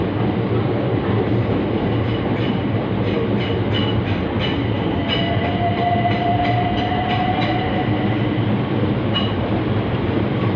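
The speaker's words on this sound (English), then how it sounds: "here comes the train that those City Beam services will be replacing. This is 376008" Class 376 electric train, unit 376008, running into London Bridge station, a steady rumble of wheels and motors with a rising whine and faint squeals, continuous and fairly close.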